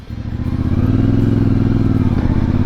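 An off-road motorcycle engine rumbles up from a lower note into a loud, steady, throbbing drone as it rides close by, with a faint rattle under the engine noise.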